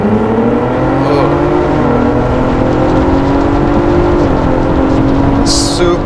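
Ford fitted with a Whipple supercharger and tune, accelerating hard in sport mode: a loud, sustained engine roar with steadily rising pitch that dips briefly at gear shifts, heard from inside the cabin with no talk over it.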